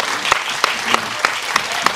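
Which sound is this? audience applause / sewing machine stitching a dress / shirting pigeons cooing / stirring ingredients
audience applause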